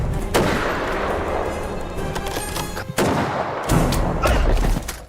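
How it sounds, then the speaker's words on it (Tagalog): Rapid, loud gunfire from a sniper rifle amid combat with heavy booming, broadband blasts filling most of the stretch, a brief lull near the middle, then renewed, even louder firing before cutting off. "mabilis silang pinatumba ni Arif gamit ang kanyang sniper na baril"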